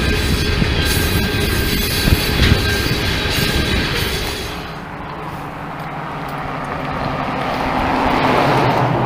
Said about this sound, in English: the speed at which that train is moving in front of me